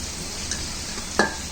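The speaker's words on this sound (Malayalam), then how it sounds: "സവോള ആവശ്യത്തിന് നന്നായിട്ട് തന്നെ വഴറ്റിയെടുക്കണം" Onions sauté in an uruli over a wood fire for pork vindaloo, giving a steady close sizzle with two metallic clinks of a stirring spoon against the vessel.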